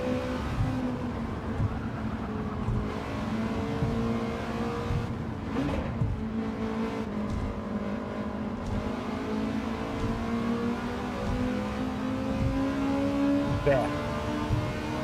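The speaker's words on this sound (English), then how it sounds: "You can hear, you can actually hear the VTEC." A Honda engine in a racing video game revs continuously, its note climbing and changing character as it pulls, with someone talking over the sound.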